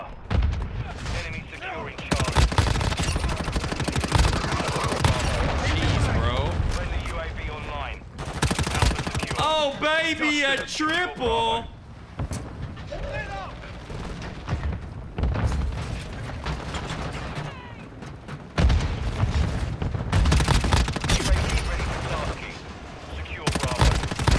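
Rapid bursts of automatic gunfire and heavy booms fill a Warzone Mobile match, loud and near, in long dense stretches broken by short pauses, with players talking over the shooting.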